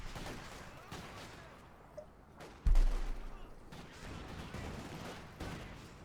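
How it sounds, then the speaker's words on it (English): A Jagdtiger's 128mm cannon in Company of Heroes 2 fires one loud heavy boom midway, against a backdrop of steady battle noise and scattered gunfire. "Again with its 128mm cannon"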